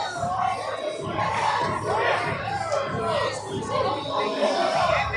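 A crowd at a STEAM vs Soldan basketball game cheers and yells continuously, a dense, loud wall of shouting voices and hype with chatter mixed throughout.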